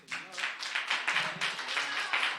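A church congregation breaks into applause, bursts of clapping at moderate volume swelling and falling over a couple of seconds, with a voice briefly audible underneath.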